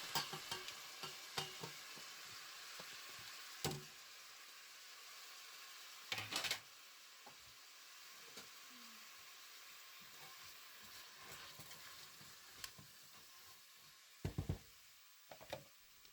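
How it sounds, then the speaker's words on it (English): Parsnips frying in oil give a faint, steady sizzle close by, broken by occasional sharp knocks and clatters of cookware. "We fried them a little in oil."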